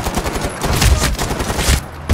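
Dense assault rifle fire from Medal of Honor Warfighter, a steady rattle of rapid shots with heavy low punches, loud and close with no talk over it.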